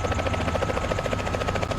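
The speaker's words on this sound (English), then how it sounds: "This is the trainer helicopter" A Robinson R44 trainer helicopter in Microsoft Flight Simulator 2024 makes a steady, rapid rotor chop over an engine whine, close and constant with no talking.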